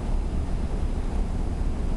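Steady wind buffets the microphone while riding in a Scania R500 truck with Opticruise on flat road, a dense, even low roar throughout with no voices.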